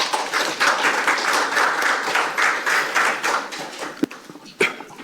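Audience applause at a Korean press and broadcasting forum as a speaker is welcomed: moderate clapping from a modest crowd that thins out, ending in a few last distinct claps.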